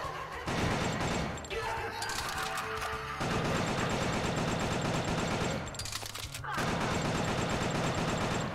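Rapid gunfire from the video game Killer 7 rattles loud and dense throughout, with a couple of brief dips, layered over busy game sound and music.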